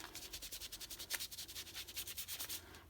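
Something rubs on a watercolor painting with a rapid, steady back-and-forth scrubbing, about eight strokes per second, close but faint and with no other sounds.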